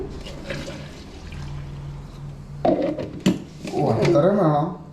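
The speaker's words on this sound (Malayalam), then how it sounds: "നമ്മൾ ബാക്കി വെള്ളം ഒഴിക്കുന്നു" Water is poured into a gooseberry and lemon drink mixed with curry leaves, mint, salt and sugar, giving a brief splash and trickle while a person talks over it.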